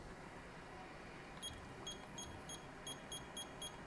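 Kitchen oven timer beeping: a series of short, evenly spaced electronic beeps, about seven in quick succession, faint against a quiet background hiss.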